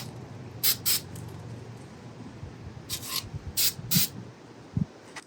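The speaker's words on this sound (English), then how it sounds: "We're gonna spray it on this little foam brick just to try it out." Short, sharp hisses of spray paint hit a small foam brick outdoors, two quick bursts and then three more, close and distinct over low wind rumble.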